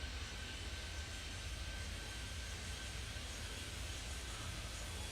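A plane departs in the airport control game Airport Madness 3D, its engine a steady, broad roar that holds at an even level for several seconds with no talk over it.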